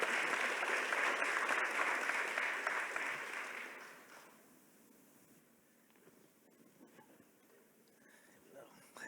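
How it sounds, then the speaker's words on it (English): Applause from a conference audience for panelists at an opening plenary session, a dense roar of clapping for about four seconds that fades into quieter room noise with scattered claps. "give me a round of applause for my panelists"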